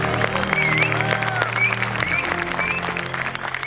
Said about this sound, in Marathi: जोरात टाळ्या.